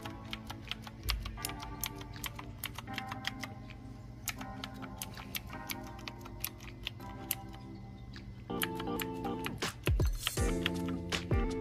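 Clicky keystrokes from a freshly cleaned mechanical keyboard on a PC, a steady run of sharp taps at moderate pace, growing louder and busier near the end, with no voices.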